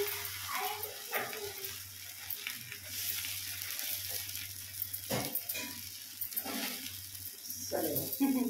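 Oil sizzles steadily in a pan for a gongura tempering, a soft frying hiss with a few clinks and scrapes, heard under a low background hum.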